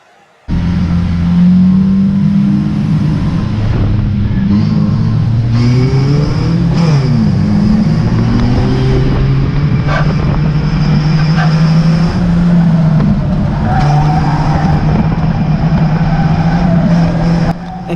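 Stock cars race at Cowdenbeath Racewall, several engines droning and revving loudly close by, pitches rising and falling as cars pass, continuous throughout after a brief quiet start.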